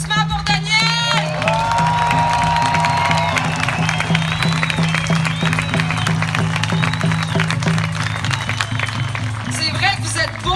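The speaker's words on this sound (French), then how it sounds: "Une main d'applaudissement pour Daniel!" Crowd at a street demonstration cheering, whooping and applauding continuously, a loud close mass of voices with a steady low hum beneath, and brief shouts at the start and end.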